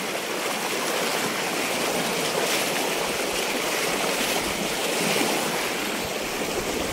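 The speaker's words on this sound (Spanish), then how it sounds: "ya estoy cruzando el río, si sí está la corriente" Strong river current rushing steadily during a crossing, a dense continuous roar of water close to the microphone with some wind buffeting and no talk.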